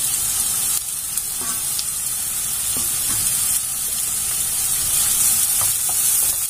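Chopped onion, curry leaves, green chilli and ginger garlic paste fry in a pan for a chicken stuffing, a loud, steady crackling sizzle throughout with a few faint scrapes and no talking.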